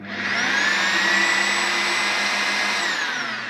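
A Bosch AdvancedImpact drill runs steadily at low speed, an even, close whine with a constant motor hum that holds for a few seconds without talk.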